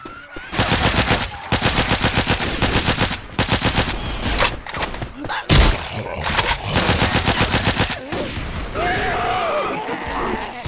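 Rapid automatic gunfire cutting down zombies in Left 4 Dead 2, long loud rattling bursts with short breaks, followed by scattered shots and game noise toward the end.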